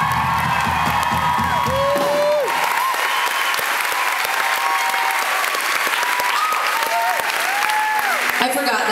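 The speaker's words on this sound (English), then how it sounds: "Please give a huge round of applause to the talented Mr." Audience applause at a concert in Town Hall, a loud sustained burst of clapping with scattered whoops and cheers from the crowd, continuing steadily and tapering slightly toward the end.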